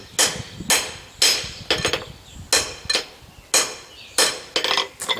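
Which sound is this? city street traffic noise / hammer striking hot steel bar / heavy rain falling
hammer striking hot steel bar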